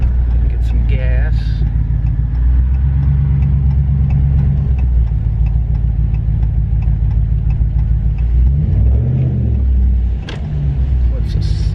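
Loud exhaust of a car with a Hemi 5.7L engine while cruising, a heavy continuous low rumble from inside the cabin, with a brief pitch rise and dip near the end.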